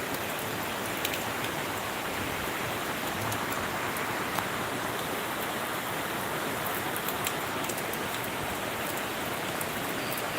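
Heavy morning rain during the Thulavarsham monsoon in Kerala pours down steadily, a dense, even hiss of drops on surfaces with occasional sharper patters, unbroken and loud throughout.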